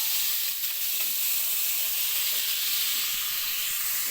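Chicken frying in a pan gives a steady close sizzle and crackle that runs throughout, with occasional light stirring noises.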